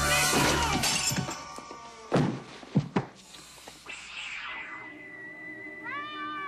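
A cat meows in a TV series scene, a short rising meow near the end after crashing, breaking-glass-like clatter and scuffling noises.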